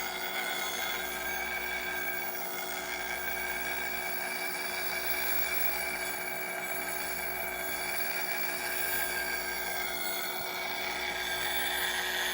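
Mesquite-turning gouge held freehand against a spinning grinding wheel, a steady close whirring grind with a constant hum running unbroken and fairly loud throughout, with no talk over it.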